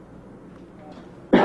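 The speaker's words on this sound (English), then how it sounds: "Man, I hate this cough." A man gives a single short, sharp cough at the very end, close and loud after a brief stretch of quiet room noise.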